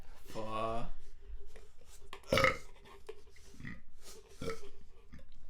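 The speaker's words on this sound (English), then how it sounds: "that was a long burp" A long, loud burp with a rumbling, pitched tone, stretching out before a brief pause and more low vocal noises.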